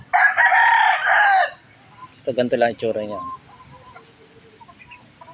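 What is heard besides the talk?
rooster, gamecock bloodline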